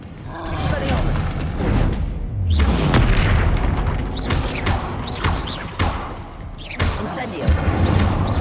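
Spell-casting effects from the fantasy video game Hogwarts Legacy, a disarming charm amid a troll fight: loud booming blasts and crashes with whooshing bursts recur throughout, under a constant dense layer of game sound, with speech mixed in.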